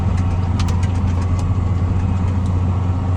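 An MTZ tractor engine runs at a steady idle, a loud close diesel rumble with light rhythmic knocking and a few faint clicks on top, continuing evenly throughout with no talking.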